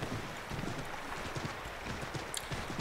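Steady clip-clop of horse hooves at a trotting pace in Assassin's Creed III, under constant wind-like background noise, with no talking.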